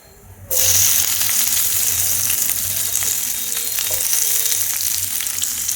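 Onions sizzling and frying in hot oil with cinnamon, cardamom and cloves for a home-style chicken curry, a steady loud crackle starting abruptly after a brief quiet moment and continuing with faint stirring clinks.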